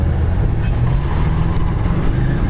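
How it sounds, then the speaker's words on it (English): Inside a moving 1967 Ford Fairlane 500 XL convertible, a steady low roar of wind and road rumble continues without a break, with no one talking. "Wind noise."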